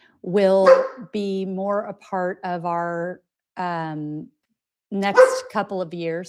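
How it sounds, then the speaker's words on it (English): A pet dog barks a couple of times in the background of a home recording, sitting under steady, close talking. "Sorry if you hear my dog in the background."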